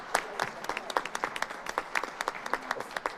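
Audience applause for Springdale Elementary School at a school board meeting: many hands clapping in a steady, dense patter for about three seconds, moderately loud, with no talking.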